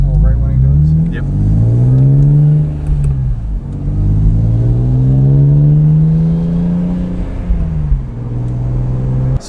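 BMW E46 M3 engine with a new fuel pump and an idle problem cranks and revs, its pitch climbing and falling in repeated swells up close, with voices talking over it.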